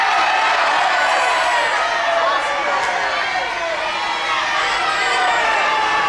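An audience at a Halloween contest on a Carnival cruise ship shouts and cheers together, a loud, dense, continuous roar of many voices.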